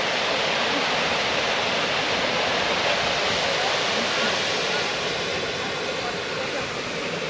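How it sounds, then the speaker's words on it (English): A small waterfall at Edith Falls pours in a steady, broad rushing hiss of falling water, close and constant, with no voices. "Another great little waterfall."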